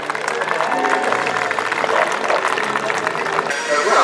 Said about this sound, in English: start as the meet go on with a big round of applause for all the teams of Horseboarding UK